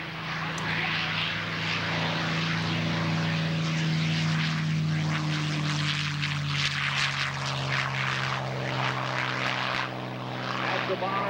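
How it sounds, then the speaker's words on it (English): A P-51 Mustang propeller fighter roars past at an airshow with a deep, throbbing engine drone that rises and then eases, while a voice speaks over it. "the only sound like this in the world"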